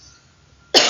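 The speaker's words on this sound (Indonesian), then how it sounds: "Mohon maaf, Ibu batuk." A woman gives a single sharp cough at the end of a quiet moment, sudden and close.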